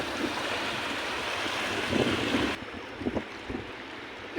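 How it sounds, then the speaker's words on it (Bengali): A boat moves over the sea near Ram Setu at Rameshwaram, with steady wind rush and wash of water against the hull, plus a few sloshing splashes toward the end. "এই মাথা চলে যায় বোটখান।"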